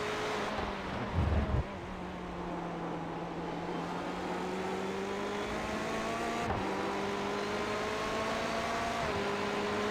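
GTE-class race cars roar around the Daytona banking in a sim-racing event, several engines droning steadily with rising and shifting tones as they pass, one brief rumble near the start, no talking over them.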